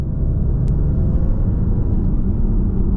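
A Maserati GranTurismo Trofeo in sport mode pulls from about 40 to 50 mph, its engine a loud, steady, deep rumble heard from inside the car.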